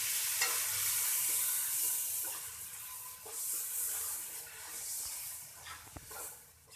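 Chopped tomatoes stirred in a frying pan for bitter gourd curry, a soft hissing sizzle with occasional scraping strokes of a spoon, steady and close but fairly quiet, no talking.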